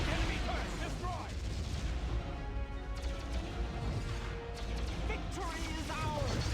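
A turret is blown apart under fire in a Star Trek space combat game: dense, continuous rumbling blasts and crashing explosions roll without pause, with a loud, heavy low-end throughout.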